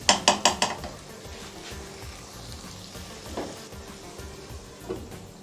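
Spoon clatters against a pan as fried cluster bean keema is dished out, four quick metallic knocks up front, then a soft continuous scraping and sizzle with a couple of lighter taps.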